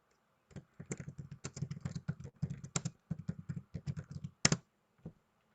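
Quick bursts of keystrokes on a computer keyboard while a description is entered, clicking at close range in a quiet room, with brief pauses between words and a firmer final tap.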